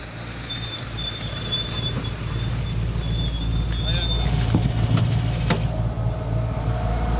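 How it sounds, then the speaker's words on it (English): Rally cars at the 2025 R.A.C Rally in Kielder forest give off a steady engine drone that swells slightly toward the middle, heard from a distance with commentators talking over it. "the hills well and truly are alive with the sound of rally cars here in Kielder"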